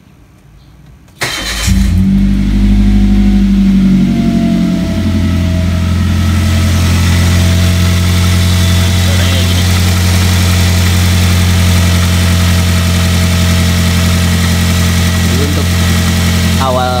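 A Toyota Avanza/Daihatsu Xenia engine with a humming alternator cranks and catches with a burst of revving, then settles into a steady, loud idle.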